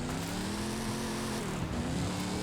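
Steady engine drone of the stock Knight Rider K.I.T.T. car driving in Forza Horizon 5, a continuous low hum at even level throughout with a slight pitch shift midway.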